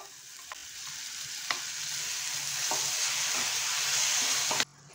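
Finely chopped onions and tomatoes fry in a hot pan for a tomato and sev curry, a steady broadband sizzle broken by several sharp clacks of a spoon stirring, ending abruptly near the close.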